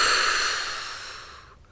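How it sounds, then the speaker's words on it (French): A long, steady exhale during a guided sophrology breathing exercise, a soft breathy rush that gradually fades over nearly two seconds, close and alone with no talking. "On retient légèrement notre respiration. Et on souffle"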